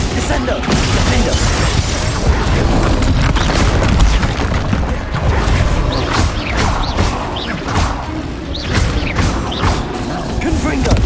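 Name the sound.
spell impacts and explosions from the video game Hogwarts Legacy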